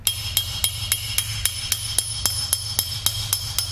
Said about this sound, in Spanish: el sonido del cincelado es con un cincel, una maceta, que es un martillo especial para cincelar